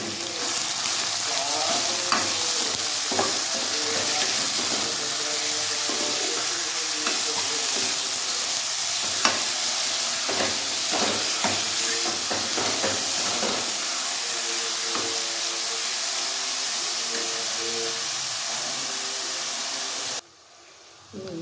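Chopped onions frying in a pan while being cooked down to brown for a simple home meal, with a steady sizzle and hiss and repeated stirring scrapes throughout, ending in an abrupt cut near the end.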